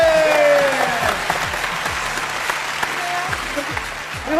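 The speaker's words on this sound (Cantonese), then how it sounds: "俾啲掌聲好唔好？" Studio audience applause fills a TVB variety game show set, a loud, sustained clapping wash with falling tonal sound effects and voices riding over it.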